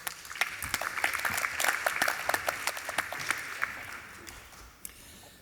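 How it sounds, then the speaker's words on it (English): An audience at a talk on hospitality breaks into applause, a fairly sparse clatter of individual claps that builds, holds, then thins out and fades toward the end. "please give now a very, very warm applause and welcome to Daniel Birnbaum"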